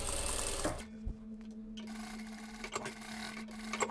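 A sewing machine stitching the edge of a denim dress collar. It opens with a short burst of rapid stitching, then a faint hum and scattered handling clicks follow, all close by.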